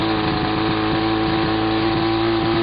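A piston-engine Mosquito helicopter runs up for takeoff with a steady, loud engine drone and throbbing rotor pulses that hold constant and close throughout, with no voices.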